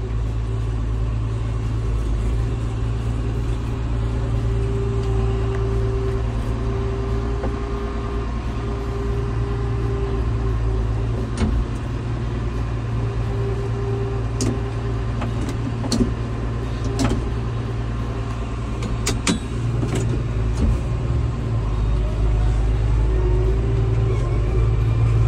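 A John Deere 6610 tractor with about 7000 hours drives along, its engine a steady loud low rumble and drone throughout from inside the cab, with occasional small clicks and rattles.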